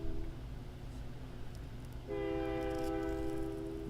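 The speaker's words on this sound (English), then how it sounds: "Every time I record, there's a train." Train horn blasts loudly over the low rumble of a passing train, a sustained multi-tone horn starting partway through and holding to the end, close and steady.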